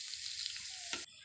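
Whole spices (white cumin, cloves, cinnamon and bay leaves) fry in oil for a fish curry, giving a brief close sizzle and bubbling hiss that ends with a sudden sharper crackle.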